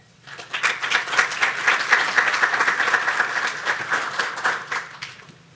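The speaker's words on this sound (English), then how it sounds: "let's give a quick round of applause for Christina and Carolyn Hogg." An audience at a technology conference applauds for about five seconds, producing a dense, steady wash of clapping that swells quickly and then fades. No voices are heard.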